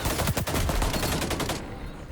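Pistol gunfire in XDefiant, heard as a close, loud run of rapid shots in quick succession that stops abruptly near the end, leaving a quieter tail.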